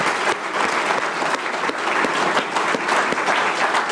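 Supporters at a Georgia primary runoff night speech break into sustained, dense applause, a steady close wash of clapping that fills the whole stretch without pause.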